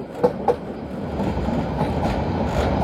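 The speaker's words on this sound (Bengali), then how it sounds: "আমাদের ব্রাহ্মণবাড়িয়াগামী তিতাস কমিউটার ট্রেনটি এখন নরসিংদী রেলওয়ে স্টেশন প্রবেশ করছে।" The Brahmanbaria-bound Titas commuter train rolls into Narsingdi railway station, heard from aboard as a steady low rumble of wheels and carriage with two sharp clanks near the start.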